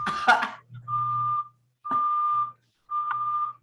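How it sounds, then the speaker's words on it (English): Three evenly spaced electronic beeps from an alarm on a bike being towed sound clearly and fairly close, each a steady tone lasting about half a second, following a brief burst of voice or cough at the start. "Who's beeping?"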